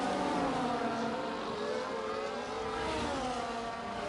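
Formula 1 cars racing at Monza in the F1 video game, a steady dense engine drone with overlapping whining tones, held at an even level throughout.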